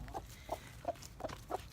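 A broody hen clucks five times in an even rhythm, short low clucks about a third of a second apart, close by and fairly quiet.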